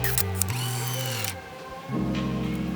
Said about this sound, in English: the shutter sounds like clunky plastic slapping together like 50 years of bad luck, and the motor sounds like it's crying out